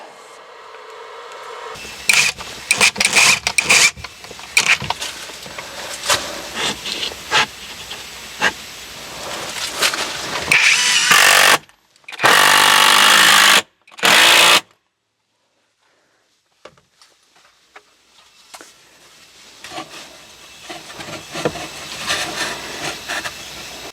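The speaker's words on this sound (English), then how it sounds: "So I'm going to go ahead and get 1 screw in now over here" A power drill drives a screw to mount a 6000 W Sun Gold Power inverter. Handling knocks and rustles come first, then several loud, close whirring bursts from the drill, followed by quiet.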